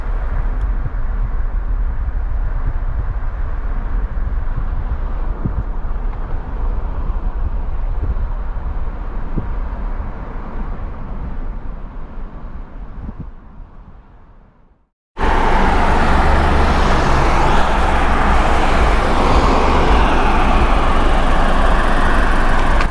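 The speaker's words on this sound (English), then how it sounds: "Trying to let the car noise, the unceasing car noise come through." Steady, unbroken roar of passing car traffic from a nearby road in Arches National Park, constant throughout with no voices, briefly dipping before returning louder and closer.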